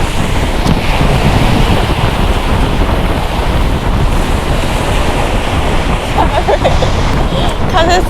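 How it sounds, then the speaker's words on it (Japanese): Strong night wind buffets the microphone by the Seto Inland Sea coast, a loud continuous roar and rumble with waves surging underneath, and a couple speaks briefly toward the end. "ジェットコースター乗ってるみたいな風や"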